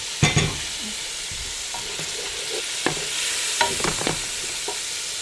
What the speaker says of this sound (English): just fry with very little olive oil some onions. As they turn brown, just add some ginger garlic paste.